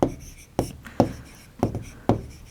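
Chalk or marker strokes writing numbers on a classroom board during a Class 4 maths lesson, five sharp taps and scrapes spaced about half a second apart, close and fairly clear with no talk over them.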